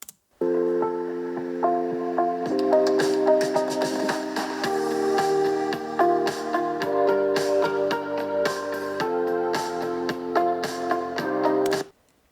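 Music plays continuously through the small speakers of a Razer Blade 18 laptop at 50% volume, a steady melodic track with rhythmic percussive ticks, moderately loud and clear, with no talking.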